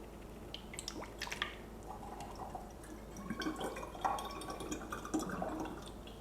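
Strained pumpkin spice mixture poured into a bottle for a rum liqueur, soft trickling and dripping of liquid with faint glassy clinks, quiet and close.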